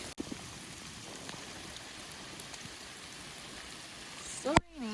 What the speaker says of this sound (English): Very wet and rainy today.